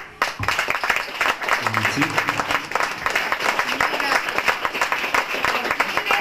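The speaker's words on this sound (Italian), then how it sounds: "un applauso grandissimo lo facciamo a Piero." A big round of audience applause at a tribute. Dense, sharp, close clapping starts abruptly and continues strongly throughout, with a few voices heard briefly under it.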